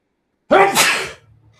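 One loud, close sneeze bursting out suddenly, trailing off into a faint low rumble afterward.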